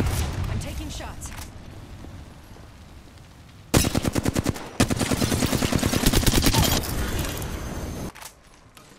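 Gunfire in Apex Legends, sporadic shots first, then a loud sustained automatic burst of several seconds with rapid even rhythm, trailing into quieter shots, with a player voice mixed in.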